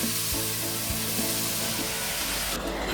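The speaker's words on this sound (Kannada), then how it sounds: "ಈರುಳ್ಳಿ ಇದನ್ನೆಲ್ಲ ಸೇರಿಸ್ಕೊಂಡು ಚೆನ್ನಾಗಿ ಈ ಥರ ಫ್ರೈ ಮಾಡ್ಕೊಳ್ಳಿ" Onion, turmeric and chopped vegetables frying for a roasted tur dal sambar, a loud, dense, continuous sizzle close by with a few soft stirring knocks underneath.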